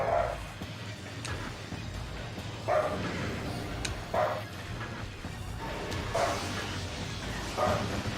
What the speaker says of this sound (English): Dog barking or something, I don't know.